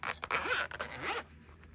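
A zipper on a rose-colored case for a Tunisian crochet hook set pulls closed in two quick rasping strokes, close and clear, then stops.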